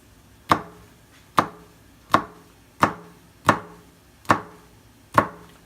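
A kitchen knife finely chopping chilies on a cutting board, seven crisp, evenly spaced chops in a steady rhythm, close and clear with no talking.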